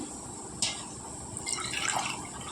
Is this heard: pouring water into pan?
yes